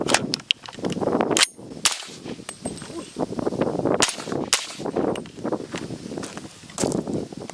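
A suppressed PSA JAKL rifle in 300 Blackout fires full-power non-subsonic rounds, giving several sharp, muffled reports spaced irregularly, with rustling and handling noise between the shots.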